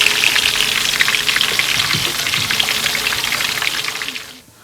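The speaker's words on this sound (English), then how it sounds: "Frying the plantains, cut into small pieces." Small cut plantain pieces fry in hot oil with a steady, dense sizzle and crackle that runs nearly the whole time, close and fairly loud, before dropping off abruptly at the end.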